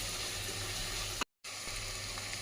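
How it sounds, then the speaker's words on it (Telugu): Tomatoes sizzling as they fry in a pan for a homemade dish, a steady dense crackle broken by a brief silent gap midway. "నెక్స్ట్ టమాటాలు అన్నీ బాగా వేగాలి"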